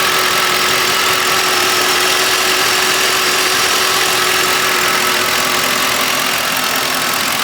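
A 2006 Lincoln Town Car's 4.6 liter V8, the same motor used in the Crown Vic, idles steadily and close up with a constant loud hum and even mechanical whir, no voices.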